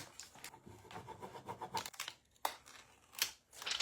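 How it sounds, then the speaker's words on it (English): Scissors cut away a piece of a rub-on transfer sheet, making close, crisp snips and crinkling paper rustles in an uneven rhythm. "I'll just cut this away right here."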